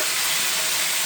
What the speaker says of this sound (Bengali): বাগার দিয়ে দিচ্ছি এক কথায়।